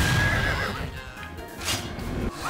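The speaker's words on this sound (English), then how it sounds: "See that awesome horse, guys?" A horse neighs in Star Wars Battlefront, a loud, clear whinny with clip-clop hoofbeats under it, set in the busy in-game atmosphere.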